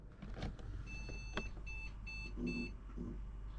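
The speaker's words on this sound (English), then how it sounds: "Obviously there's a bit of beeping going on at the moment." A brand-new PC Specialist gaming PC giving faint, high electronic beeps in short repeated bursts over a low background hum.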